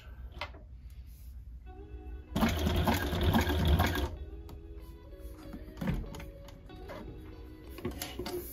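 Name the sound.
sewing machine stitching dog gear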